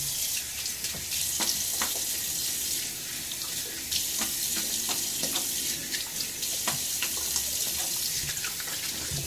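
Running tap water pours steadily while a razor and face are rinsed during a wet shave, a constant splashing hiss broken by irregular spatters and drips, close and fairly loud, with no talking.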